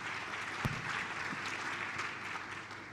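Audience applause at a government summit: a continuous wash of clapping hands, moderately faint and steady for a few seconds, with one sharper clap standing out early.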